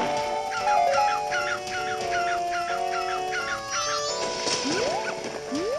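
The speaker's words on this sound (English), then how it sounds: "Did I just bounce off a dog?" A dog at Romani Ranch in The Legend of Zelda barks in a series of short, evenly spaced synthesized yelps over steady game music, followed by a few rising chime-like effects.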